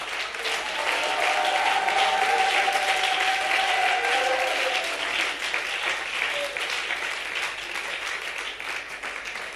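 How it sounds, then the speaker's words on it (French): A church congregation applauds in a sustained, even wave of clapping lasting nearly ten seconds. Soft tonal music or voices sit underneath the crowd noise. "Ton acclamation est trop timide."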